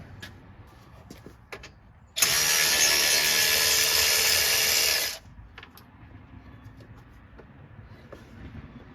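Power tool loosening 10 mm bolts on a 2011 Kawasaki Mule 610 XC during an oil leak repair, one loud continuous whirring burst of about three seconds, with quieter workshop clatter before and after.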